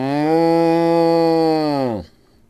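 Sustained moo imitated by voices during a children's Spanish lesson on animal sounds, one long harmonic low call that holds steady for about two seconds then stops, close and loud.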